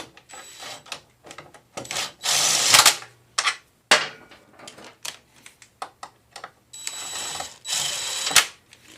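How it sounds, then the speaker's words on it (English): An impact wrench runs bolts onto a Honda CR250 motorcycle in short, loud, rattling bursts of hammering with gaps between them, close by, broken up by fainter clicks and handling noises and no speech. "we're going to just hit them on with the impact here before we torque them"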